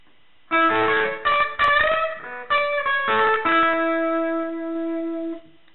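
Electric guitar playing a riff, a short run of clean, bright picked notes with a few pauses, ending on one long sustained note that rings out alone.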